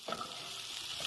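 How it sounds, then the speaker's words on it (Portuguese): Sausage fries in a pan alongside chopped green onion, a loud continuous sizzle with crackling and a few stirring scrapes close by, no voices. "Botei a cebolinha aqui do lado do resto da linguiça que estava fritando"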